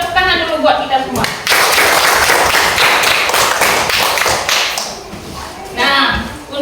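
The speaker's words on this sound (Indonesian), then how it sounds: "Tepuk tangan dulu buat kita semua." A class of students claps hands in a dense burst of clapping lasting a few seconds, with a teacher's voice speaking before and after it.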